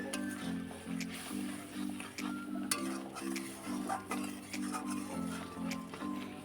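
Masala paneer being stirred and fried in a pan: a spoon scrapes in a steady, even rhythm against the pan under a quiet sizzle, close and soft.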